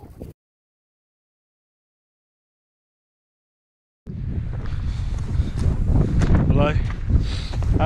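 Strong wind buffets the microphone while descending Snowdon in Wales, a loud, steady roar that kicks in abruptly after near-silence and carries on with voices faintly audible underneath.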